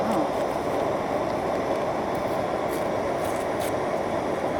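Steady rushing burner noise from a camp stove boiling water for hot chocolate and cider at a backcountry camp near Evolution Lake, close and even throughout, with faint ticking sounds near the end.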